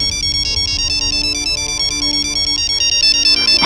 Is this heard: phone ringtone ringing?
yes